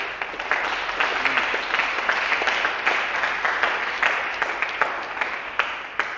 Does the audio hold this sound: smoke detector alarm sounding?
no